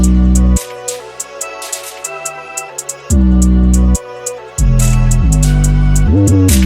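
A modern drill beat with pounding sub-bass and crisp hi-hats; the bass and drums drop out twice, leaving a sparse melody before kicking back in, a transition switching up from the snare.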